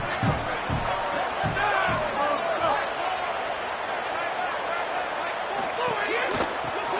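Home crowd noise in the NCAA 27 college football video game, a steady broad roar with scattered thumps and cheers, heard under a commentator talking throughout.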